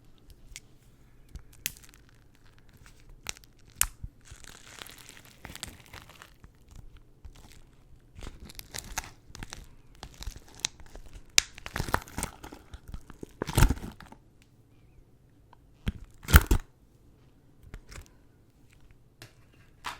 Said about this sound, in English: this is her cinnamon toast crunch slime